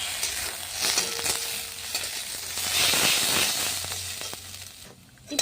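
Potato, onion and Maggi noodles fry with tomato sauce and masala in a pan, giving a continuous close sizzle with stirring that swells and fades, then ends with a short clatter.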